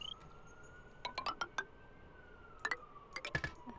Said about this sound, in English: Sorry if you can hear an ambulance in the background